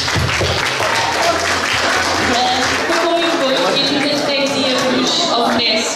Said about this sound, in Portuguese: darmos uma verdadeira e grande salva de palmas a todos eles